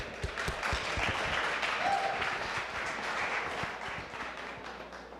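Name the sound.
audience applause for stand-up comedian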